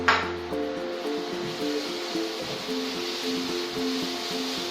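Onions, cashews, carrots and coriander chutney are stirred in a pan for vegetable pulao: a sharp metallic clink opens, then soft scraping and clattering of the utensil against the pan runs under steady background music.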